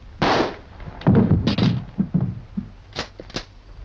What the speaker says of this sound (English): Without hesitation, they shoot him, adding his body to a bonfire alongside the undead.